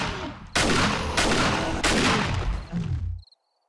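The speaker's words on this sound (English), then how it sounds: "Shoot him in his big fat belly." Rapid close gunfire in the survival game 7 Days to Die, aimed at an enemy cop: several loud dense bursts over about three seconds, ending abruptly in silence.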